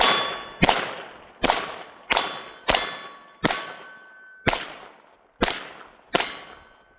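Taurus TX22 .22 pistol fired with a deliberately limp wrist, eight sharp metallic shots at a steady, slightly uneven pace, loud and close with ringing decays and no talk.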